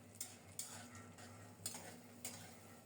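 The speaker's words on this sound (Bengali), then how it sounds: "গরম তেলে বাদামগুলো দিয়ে নেড়ে চেড়ে অল্প তাপে খুব সুন্দর মতো বাদামগুলো ভেজে নেবো" Peanuts being stirred and fried in hot oil over low heat, with faint sizzling under a few sharp scrapes and clicks of a utensil against the pan, quiet and close.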